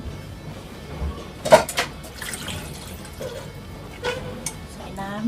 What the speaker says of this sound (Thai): แล้วก็ ใส่น้ำ